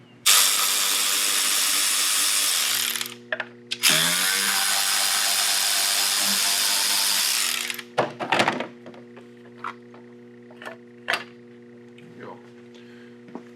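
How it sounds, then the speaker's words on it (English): Loud power tool whirs in two long bursts, likely removing the valve cover from an Acura TL 3.5 engine with a misfire, followed by scattered clunks and taps of parts and tools. "I think the next step is going to be getting the valve cover off"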